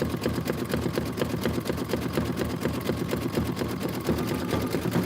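An embroidery machine stitches in a fast, steady mechanical rhythm, loud and close, running continuously without a break or any voices.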